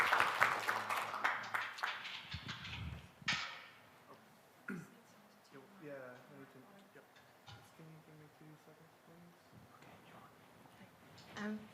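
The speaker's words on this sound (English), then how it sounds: "Please make her welcome with your hands clapping together." Audience clapping fills the first few seconds at a startup pitch night and graduation event as a presenter is welcomed, then fades into a speaking voice and scattered room noise.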